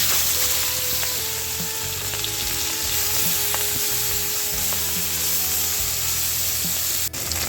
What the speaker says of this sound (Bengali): মাছটা আমি হালকা করে ভেজে নিচ্ছি